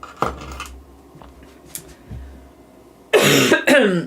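A couple of sharp coughs break a fairly quiet stretch with faint clicks, ending in a loud burst of harsh coughing close to the mic.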